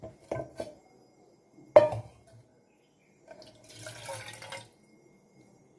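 Water poured from a drinking jug into a vessel at home, a short splashy pour in a quiet room after a couple of brief knocks, fairly close and soft.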